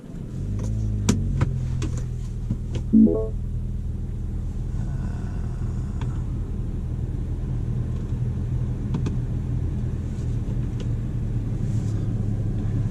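Steady low engine rumble from a 2018 Mini Cooper S Cabriolet with a six-speed manual, driven at night, a continuous drone inside the cabin with a few faint clicks and knocks above it.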